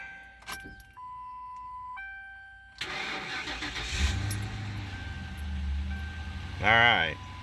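A 2006 Ford Crown Victoria is started. A few chimes and clicks come first, then the starter cranks and the engine catches, settling into a steady close idle with a brief revving swell near the end.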